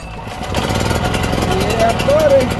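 Small gasoline engine on a homestead, carburetor left undrained, running with a rough, steady putter close by, a person talking over it.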